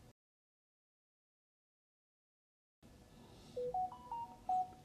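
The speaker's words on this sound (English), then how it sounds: "signature sound of notification" A short Samsung Galaxy notification tone played on an iPhone 12 running a Samsung-style interface: a few bright, clean electronic beeps in quick succession after a stretch of near silence, fairly quiet.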